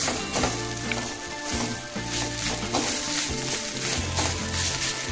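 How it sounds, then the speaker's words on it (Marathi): Cloves, cumin and green chillies fry in hot oil with a continuous crackling sizzle, heard under steady background music. "लवंगा आणि 1 चमचा जिरं, मिरची हे आता आपण परतून घेऊया।"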